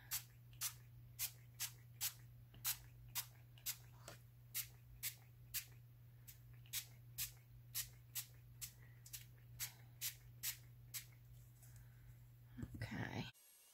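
Tea spritzed from a spray bottle onto paper, about thirty quick, sharp hissing sprays in a steady rhythm, close and clear over a low hum, ending with a brief rustle.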